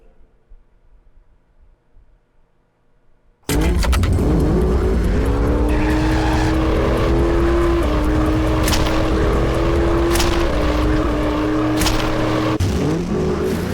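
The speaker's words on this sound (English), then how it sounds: "Max Rodriguez and Stacy all escaped by car." Loud car engine revving in the video game The Lacerator, starting abruptly after a quiet opening and holding steady with rising and falling pitch as the vehicle speeds away, with sharp intermittent accents over the roar.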